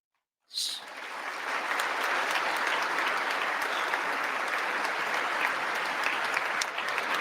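Members of the US Congress applaud Zelensky's address, a sustained, dense wall of clapping that starts abruptly and holds steady at full strength throughout, with no voices standing out.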